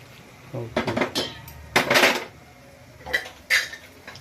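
Vegetables go into a tiffin sambar pot in a kitchen: a few separate metallic clanks and clatters of the pot and utensils, close and irregular, with brief quiet gaps between them.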